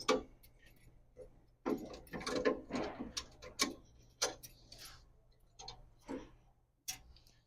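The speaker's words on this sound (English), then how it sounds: "you can remove the plumbing clamp here by taking a screwdriver and unscrewing" A screwdriver backs out the top and bottom screws of a plumbing clamp near a union nut on a thermostatic mixing valve for an automated handwash unit, giving a series of close, sharp metallic clicks and scrapes in irregular bursts.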